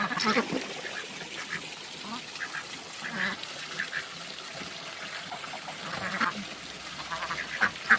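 Several ducks quack repeatedly in short, scattered bursts nearby, with faint voices and soft outdoor background noise throughout.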